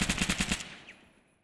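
Automatic gunfire in a shooting video game, a rapid burst of about six shots lasting half a second, followed by a fading echo and a faint distant tail.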